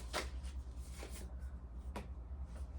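Tarot cards being shuffled by hand, with a few soft, uneven riffling bursts and light card slaps spaced out over a low steady hum, fairly close and quiet.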